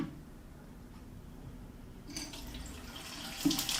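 Water trickles and splashes as it is poured from one container into a humidifier tank indoors, a soft steady pour that grows brighter and louder partway through.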